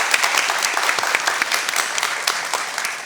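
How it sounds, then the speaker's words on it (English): Audience applause at a women's TV show taping, a dense steady patter of many hands clapping close by for about three seconds with no talk. "Let's give her a round of applause."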